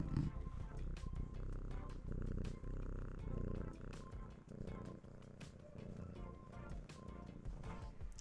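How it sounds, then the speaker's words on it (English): A pet cat purring softly and continuously, a low rumbling purr close by under a faint background of other sound, with no voices. "Some more purring from Miss Lily because it's nice."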